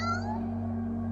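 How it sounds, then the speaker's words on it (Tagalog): A house cat named Ming gives a single short meow, close and clear, with a falling pitch that fades into a low steady hum. "Yung pusa."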